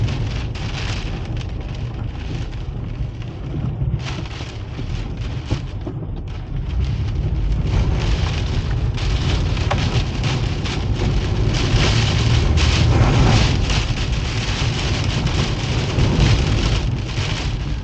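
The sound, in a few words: heavy rain and wind on a cliff during Storm Ciaran, Guernsey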